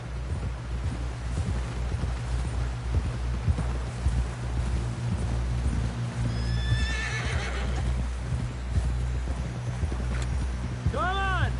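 Horse hooves clip-clop at a steady gait in a PS4 western game, with a sharp whinny late on, while voices talk over the riding and rain patters in the background.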